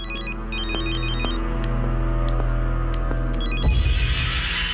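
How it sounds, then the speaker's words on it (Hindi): A telephone rings in repeated electronic trills, loud and near, ending as a low thump or handset pickup cuts in. "रिंग बजी तो थी।"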